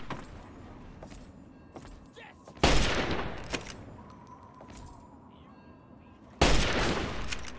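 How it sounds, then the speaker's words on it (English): Enemy gunfire in Fallout 3: sharp, loud bursts of shots crack out, two heavy volleys standing out among scattered lighter pops and clicks over a low background hum. "Do me a favor, stop shooting me, please."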